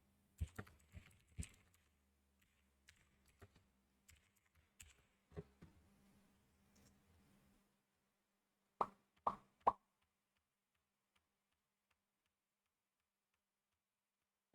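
Computer keyboard typing in quiet, scattered bursts of soft keystrokes, then a pause and three sharper, louder taps near the end.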